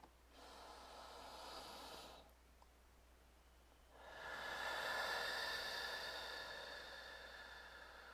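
Slow, deep breaths during a forward fold in a yoga flow on a beach: a long close exhale, a quiet pause, then a fuller, louder breath that gradually fades, against faint steady background hiss.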